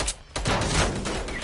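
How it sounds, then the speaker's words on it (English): Burst of gunfire in Fortnite, a brief lull followed by a dense run of rapid shots that crackle on loudly to the end. "They're shooting me."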